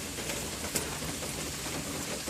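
Steady rain falls outdoors in a continuous dense hiss of drops with a few louder patters, even and close throughout, with no voices.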